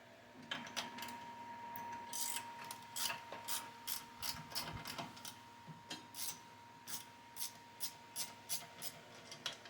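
A wrench ratcheting while loosening a pulley on a Lesco walk-behind mower, a faint, close run of sharp clicks coming in quick bursts and then a steadier train of evenly spaced ticks, with no talking.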